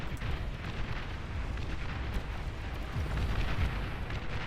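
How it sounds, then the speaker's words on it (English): Plasma artillery fire in the real-time strategy game Beyond All Reason, heard as a continuous rumbling wash of distant booms and bursts, moderately loud and steady with no talk. "The plasma artillery."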